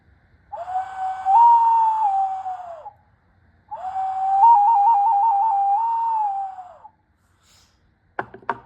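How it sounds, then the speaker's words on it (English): A bird whistle is blown in two long, wavering tones, the second with a quick trill in the middle, followed by a short clatter. "Bird whistle's still broken, but I'm going to try and play it for you"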